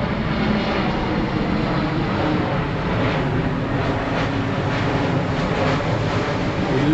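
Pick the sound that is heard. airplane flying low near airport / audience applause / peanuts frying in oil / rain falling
airplane flying low near airport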